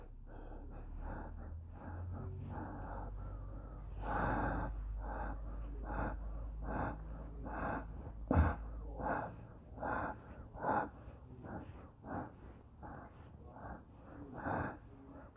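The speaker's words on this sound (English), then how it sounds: "So when you go down, you exhale." Slow, audible breaths in and out during a seated chair-yoga stretch, with some sniffs and puffs close to the mic and a faint background hum early on.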